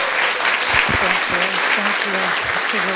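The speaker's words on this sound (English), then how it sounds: "One more time, just a big round of applause." An audience at a spiritual gathering gives a big round of applause, dense and loud clapping filling the room throughout, with a voice talking over it.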